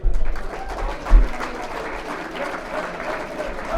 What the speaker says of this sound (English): please let's have a massive round of applause for all tonight's winners